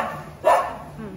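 A single short dog bark, close and fairly loud, cutting briefly through a quieter indoor background.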